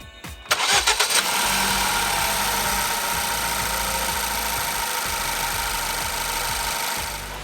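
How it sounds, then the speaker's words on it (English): A 2014 Ford Focus 2.0 engine, just repaired after a failed head gasket, cranks briefly, catches with a few sputters, then settles into a steady, loud idle that runs on without a break. "the engine fired up and it is all settled out and running absolutely fine"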